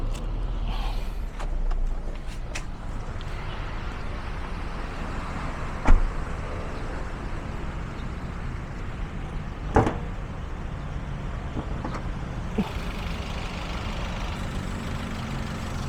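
A 2014 Toyota Avanza G manual idles quietly, a low, even engine hum close by, broken by a few sharp clicks and creaks from the car.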